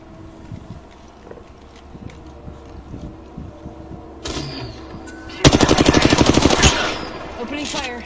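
Automatic weapon fire in the battle royale shooter Apex Legends, a dense loud burst of rapid rounds after quieter ambient game sounds and a smaller burst, with a voice speaking briefly.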